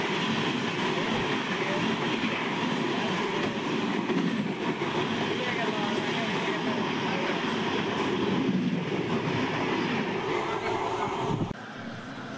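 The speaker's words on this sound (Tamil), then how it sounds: "Mayiladuthurai to Coimbatore Janshatabdi super fast express. எப்படி கிராஸ் பண்ணுறான் பார்த்தீங்கள" The Mayiladuthurai to Coimbatore Jan Shatabdi superfast express passes close by at speed, heard from aboard another train near Kumbakonam: a long, loud, steady rush of wheels and wind with rattling, which drops off abruptly near the end.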